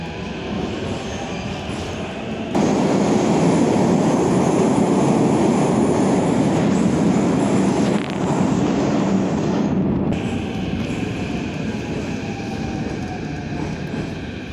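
A Kyiv metro train running underground, with a loud, steady rumble of wheels on rails and a high squeal riding over it, swelling as the train speeds up and easing near the end.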